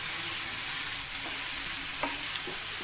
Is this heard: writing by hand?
no